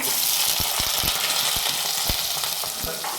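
Onion and green chili fry in hot oil in a pan for a Tamil dried-fish fry, giving a loud, dense, continuous sizzle punctuated by several sharp clicks of stirring.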